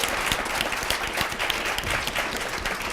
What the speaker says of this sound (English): can we give a round of applause to our Global Implications panel?